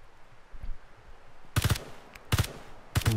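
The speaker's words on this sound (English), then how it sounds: "Somebody shooting behind him" Automatic gunfire in the survival game Hurtworld: three sharp, loud bursts of rapid shots spaced about a second apart, with no talking.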